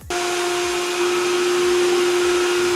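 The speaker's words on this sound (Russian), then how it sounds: "Уровень шума у даджета стандартный. 73 дБ, когда моет внутри." Dadget R200 robot window cleaner running, a loud, steady electric motor whine with a constant tone that holds unbroken for about three seconds, close up and with no voices.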